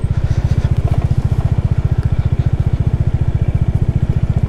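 A motorcycle rides off-road on a rough track in North Sikkim, its engine a loud, close, fast and even thumping throb at low revs, with no voices.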